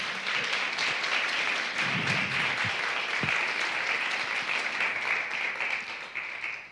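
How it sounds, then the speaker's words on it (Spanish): A church congregation applauds during a sermon, a full, sustained wash of clapping from many hands that holds steady for several seconds before tapering slightly at the end. "¿Cuántos le dan un aplauso al Señor?"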